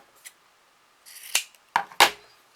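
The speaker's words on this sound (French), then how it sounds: "On va donc couper en bas." Scissors snip through crafting material in a handful of sharp, close cuts, with brief pauses between them and no speech.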